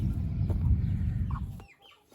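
Young roosters and hens cluck together in a farmyard flock being fed wheat and cracked corn, a steady low murmur of clucks ending in a near-quiet tail.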